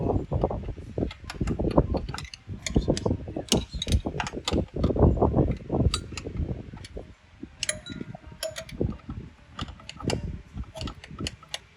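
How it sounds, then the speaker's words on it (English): Ratchet clicking rapidly in bursts while bolts come off the timing belt cover of a 1996 Toyota Hilux with a 2.8 L 3L diesel engine, close metallic pawl ticks with short pauses and small clanks between runs. "taking off the timing belt cover, there's just a heap of bolts that you have to undo all around"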